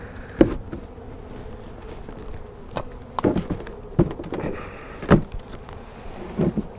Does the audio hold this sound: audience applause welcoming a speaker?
no